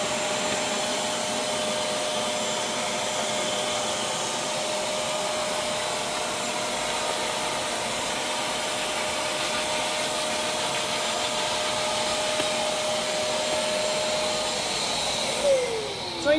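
A Fujima blower and vacuum combo machine runs steadily in vacuum mode, a loud, continuous motor whine and rushing airflow held at a constant level throughout, with a brief bump near the end.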